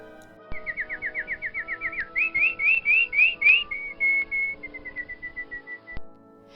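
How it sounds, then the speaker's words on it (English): A red-beaked bird in a children's story whistles a bright run of rapid chirps, then a series of rising trills and a softer fading warble, clear and close against quiet background tones. "I heard a bird raising his voice."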